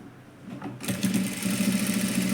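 A sewing machine starts up and runs at a steady, fast whirring rattle while stitching a four-tuck blouse, close and loud, with no talk.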